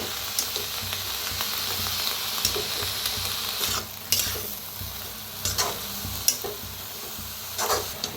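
Karadi (safflower) greens are mixed in a hot pan, a soft sizzle broken by repeated nearby scrapes and stirring knocks.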